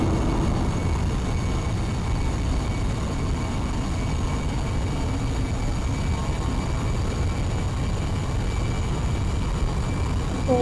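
A Roblox airplane in a flight simulator roars with a steady, loud, broadband engine and wind drone that holds unchanged from start to finish, with no speech.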